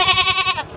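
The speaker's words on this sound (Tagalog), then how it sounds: "Ito yung kambing namin na nabili oh." A goat bought for a farm in the Philippines bleats once, a close, wavering cry that fades out within a second.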